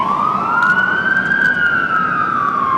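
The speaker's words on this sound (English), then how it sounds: "With that, the siren sounded." A fire truck's siren wails loud and close in a single long rising and falling sweep over a steady road rumble.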